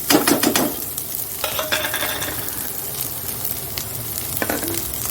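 Chopped onion and chili dropped into hot oil in a wok, bursting into a loud close sizzle with stirring clatter and scraping at the start and again near the end.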